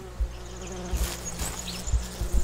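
In the horror game Siren Head Resurrection, a fly or bee buzzes close and loud, droning steadily with a few low thumps beneath it and no speech.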